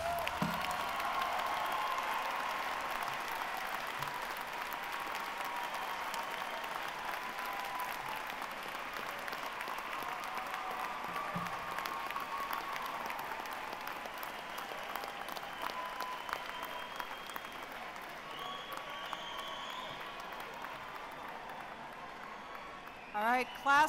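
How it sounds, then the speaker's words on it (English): Long, steady applause from a large commencement audience at a Hofstra University undergraduate graduation, thanking those who helped the graduates; continuous dense clapping throughout. "How about giving the ones who helped you a big round of applause?"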